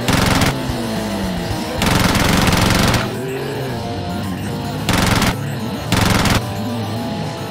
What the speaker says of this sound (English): Is that the sweet sound of gunfire?